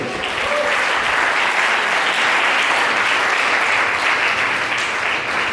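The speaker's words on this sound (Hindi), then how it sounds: "क्या ताली बजा सकते हैं?" Worshippers at a Hindi-language church service clap together in a thick, continuous wave of applause, loud and evenly sustained from start to finish, with no speech over it.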